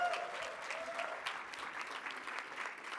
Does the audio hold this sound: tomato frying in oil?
no